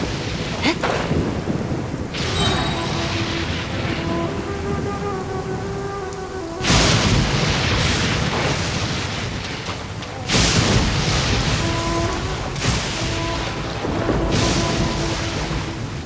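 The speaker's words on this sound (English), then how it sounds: "The thunder drowns out all other sounds, hampering my perception of the surrounding environment" Thunderstorm in Genshin Impact: steady heavy rain with repeated rolling thunder booms that surge loudly and swamp everything else, no voices present.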